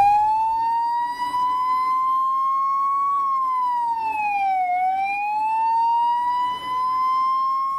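A Suwa Seriya 1990 ambulance siren in Sri Lanka wails loudly and alone, one clear tone sliding slowly up and down in long sweeps.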